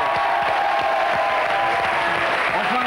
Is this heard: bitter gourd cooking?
no